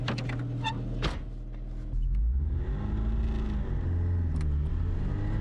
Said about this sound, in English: time for a test drive of the restored Fortnite sports car.